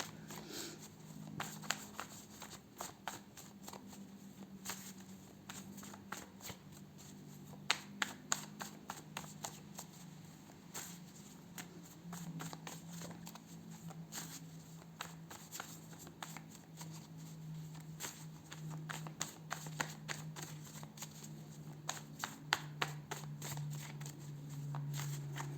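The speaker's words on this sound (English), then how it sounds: "I will pull some health and lifestyle cards for you." Tarot cards shuffled by hand, a quiet run of soft riffling flicks and brief slaps repeating in rapid bursts, close and low in level over a faint steady hum.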